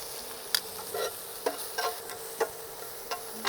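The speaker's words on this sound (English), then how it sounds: "I'm just going to add a touch of butter here" Onions finishing in a pan after a touch of butter give off a faint, quiet sizzle, broken by a few soft utensil clicks and scrapes, with no talk.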